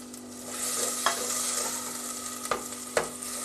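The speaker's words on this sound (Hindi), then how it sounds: "अब ये मैंने इसमें टमाटर भी डाल दिए हैं।" Tomatoes fry with ginger-garlic paste in a pot for Sindhi biryani, a continuous close sizzle broken by three distinct spoon knocks against the pan.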